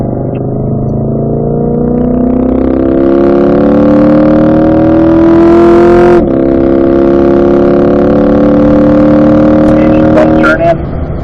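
A Chevrolet C8 Corvette accelerates hard on a race track, its engine note climbing steadily through the revs, briefly dipping at a shift, then pulling up again, loud and close throughout.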